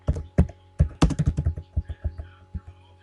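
Fingers type a word into a spreadsheet cell on a computer keyboard, a quick irregular run of crisp, close keystrokes that slows toward the end, with no voices.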